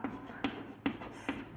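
Chalk or marker strokes on a board during a physics lesson, four short, faint scratchy taps spaced evenly, alone without talk.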